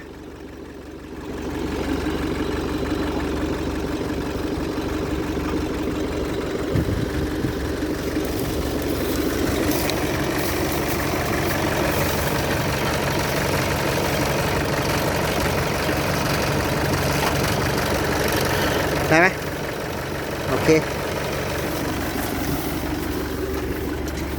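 A tractor engine idles steadily and close by, a continuous low rumble that starts after a quiet opening second and runs on with a couple of brief louder knocks near the end, with no voices.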